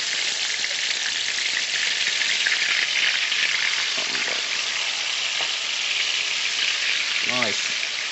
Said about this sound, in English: And it's sizzling. You can hear the sizzling.